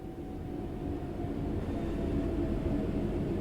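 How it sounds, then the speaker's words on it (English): A train in the Train Sim World 5 video game coasts on level ground, giving a steady, continuous low rumble and rolling drone throughout. "The train will then coast on level ground and only slow down very gradually."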